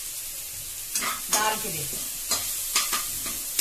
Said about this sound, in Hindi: अभी हमारा जीरा अदरक लहसुन प्याज और हरी मिर्च फ्राई हो रही है